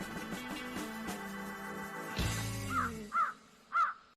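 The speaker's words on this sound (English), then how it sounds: "I love the crows at the end." Crows caw near the end, three loud, distinct harsh calls spaced about half a second apart, following a stretch of musical tones.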